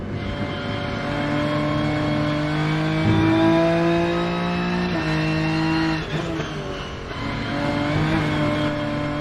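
BMW race car in the Rennsport sim racing game, its engine howling steadily at high revs with pitch rising through gears and brief drops at shifts, loud and continuous with no talk.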